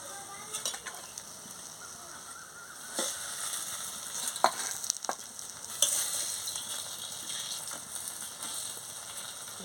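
Pumpkin flower fritters coated in gram flour frying in hot oil, a steady close sizzle with scattered crackles and a few sharp pops or clicks, no talking.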